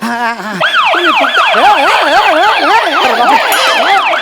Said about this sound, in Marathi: अरे काय झालं काय सायरन वाजला